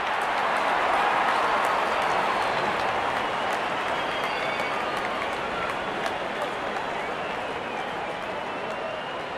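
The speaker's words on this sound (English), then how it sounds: "the crowd cheering in joy" A large crowd at a Big Bash League cricket match in Perth cheers and applauds in a steady, dense roar that fills the whole stretch, loud and continuous with no single voice standing out.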